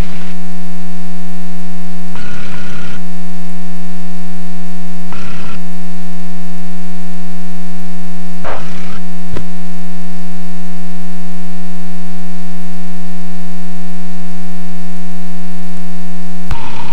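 A Luscombe taildragger's engine idles at about 900 RPM while taxiing, a steady loud drone with a strong low hum and stacked tonal harmonics, broken by a few brief bursts of noise.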